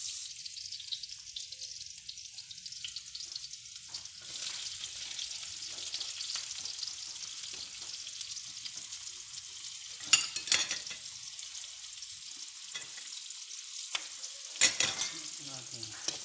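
Onions fry in a pan for Ilocano-style chicken tinola, a steady high hiss of oil with occasional scrapes and clatters of a spatula stirring, close by and without talk.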